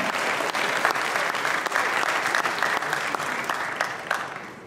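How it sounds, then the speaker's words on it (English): Audience applauding the winner of a bodybuilding competition, a steady, moderately loud patter of many hands clapping throughout, with a few sharper claps standing out. "Big round of applause"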